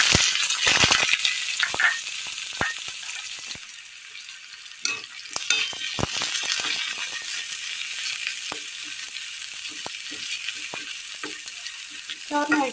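Mustard seeds and shallots sizzle and crackle in hot oil for a Kerala-style tempering, a steady frying hiss broken by sharp pops and spattering bursts, close and continuous with occasional stirring.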